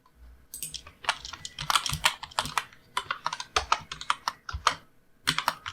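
Rapid keystrokes on a computer keyboard while entering HTML code, a steady run of close, crisp clicks in irregular bursts with brief pauses between words and no talking.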